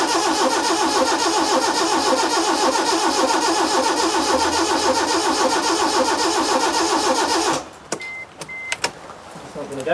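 Proton Wira car left abandoned for 14 years, its starter cranking steadily and rhythmically for several seconds without catching, then cutting out into a few clicks and faint clatter.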